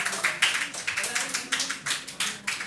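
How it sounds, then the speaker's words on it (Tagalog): Youth in a church audience clapping, a steady run of quick, sharp handclaps in a loose, even rhythm, fairly close and lively, with a few voices faintly mixed in. "Dapat may palakpak yung mga kabataan."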